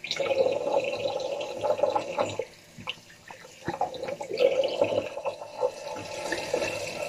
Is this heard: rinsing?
yes